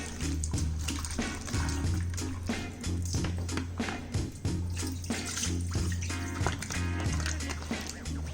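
Water splashes and sloshes continuously with a running tap, irregular clatter as young radishes are rinsed by hand for kimchi, with a low steady hum underneath.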